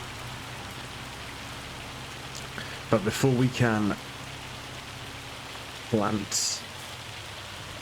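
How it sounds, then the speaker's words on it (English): Heavy rain pours steadily in the video game Farming Simulator 25, a constant hiss of falling drops under short bursts of someone talking. "So it is absolutely hammering it down with rain."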